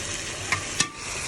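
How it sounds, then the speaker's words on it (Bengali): Hilsa fish head curry with red amaranth stems is stirred in a pan, a continuous frying hiss broken by two quick scraping stirs. "লাল শাকের ডুগা আর ইলিশ মাছের মাথা দিয়ে রান্না হচ্ছে। এই দেখুন আমার দিনের বোনেরা, আমার দিনের ভাইরা, আমি মাথাটা ঘুটে দিলাম।"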